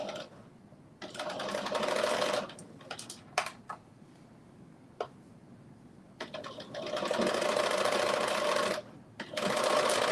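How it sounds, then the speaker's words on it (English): A sewing machine joins knit crop top pieces with a straight stitch at a 5/8 inch seam, buzzing up close in three bursts separated by quiet pauses and light clicks. "you are making two pieces into one by sewing them together"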